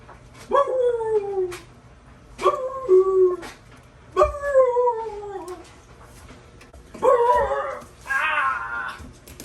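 A person mimics a dog with a series of drawn-out, falling howl-like barks, five separate calls spaced a second or two apart, fairly close.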